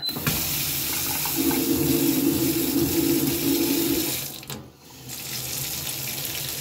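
A tap runs warm water into a sink with a steady rushing hiss that keeps going for several seconds, then briefly cuts off and resumes.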